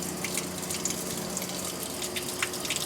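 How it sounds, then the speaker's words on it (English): Clean water runs from a hose and flushes steadily through the engine block of a seized Ford Model A, making a continuous close splashing rush with no talk over it. "Look how clean that water is coming out of this block."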